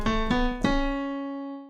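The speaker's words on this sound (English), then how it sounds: "In a major key, the 6th note should be natural," Short three-note melody in a major key with a natural sixth, played on a clear, sustained, tonal instrument: two quick rising notes and then a held final note that rings out and slowly fades, alone with no talking.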